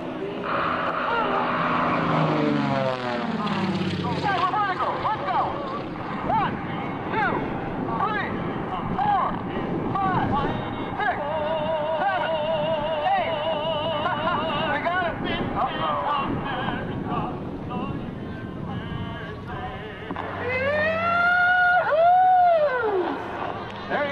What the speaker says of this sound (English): He's going to have to get the airplane going pretty darn fast as he comes down